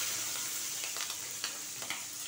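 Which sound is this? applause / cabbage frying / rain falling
cabbage frying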